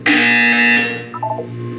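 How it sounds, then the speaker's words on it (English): In the video game Portal 2, a loud, harsh electronic buzzer blares for about a second, then fades into a short run of descending tones. "You will hear a buzzer"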